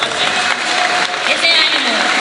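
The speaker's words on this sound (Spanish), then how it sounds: "que se escuchen esas palmas para los que les gusta mucho League of Legends" A cosplay catwalk crowd at Metrópoli Gijón 2015 claps and cheers for League of Legends fans, loud and dense throughout the short burst, with voices mixed into the noise.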